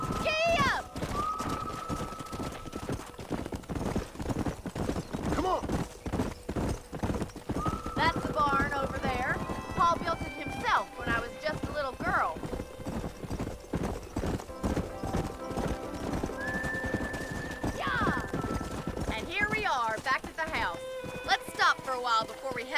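A horse gallops with steady, rapid clip-clop hoofbeats through the whole stretch in Red Dead Redemption, with occasional whinnies and voices talking over the hooves.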